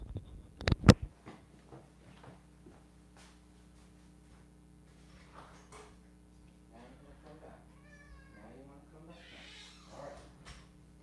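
A house cat meows faintly a few times amid a quiet room, with a sharp knock near the start and a low hum underneath.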